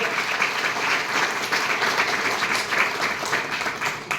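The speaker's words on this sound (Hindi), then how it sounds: "मैं चाहता हूं तालियां हो जाए।" An audience applauds at a business event honouring a company vice president, a steady, dense wash of many hands clapping that holds evenly throughout without pause.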